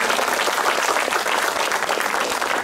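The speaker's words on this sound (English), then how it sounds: "Please give them a round of applause." An audience applauding at a groundbreaking ceremony for a friendship garden, dense steady clapping from a crowd, close and sustained for a few seconds.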